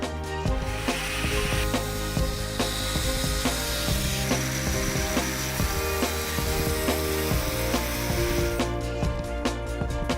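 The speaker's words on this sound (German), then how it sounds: "Jetzt vermessen Sie die Skinrock-Platten und schneiden diese mit einer Kreissäge oder einem Winkelschleifer zu." A power saw or angle grinder cuts Skinrock panels, giving a sustained, loud whirring grind with a tonal whine that holds steady, shifting slightly in pitch as the blade works through the board, with no voices.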